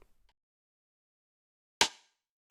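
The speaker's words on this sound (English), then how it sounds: "This is more of a rim shot." A single sharp rim-shot snare sample from a drum and bass track cracks out of near silence, followed by the start of a second hit at the very end.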